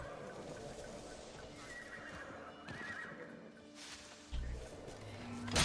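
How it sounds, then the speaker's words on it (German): Horses running and neighing in the Assassin's Creed Odyssey video game: repeated whinnies and galloping hoofbeats in a busy game soundscape at moderate loudness, with a heavier low thump near the end. "Rennenden Pferde."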